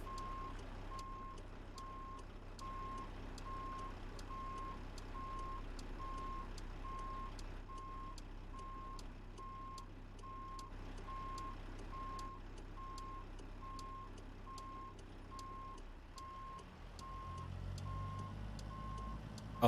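A video-game pickup truck engine idles with a low steady drone while repeated reversing beeps tick along evenly throughout.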